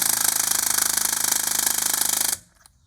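A Ryobi 1/4 inch impact driver works against a stuck lug nut with a rapid, steady hammering rattle for about two seconds, then stops abruptly, leaving near silence.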